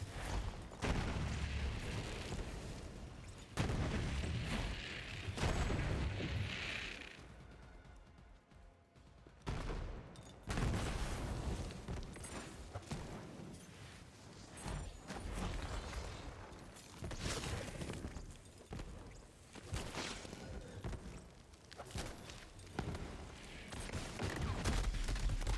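Turret gunfire in a Borderlands game, sustained rattling bursts and booming impacts that continue almost without break, briefly dropping off midway before resuming loudly.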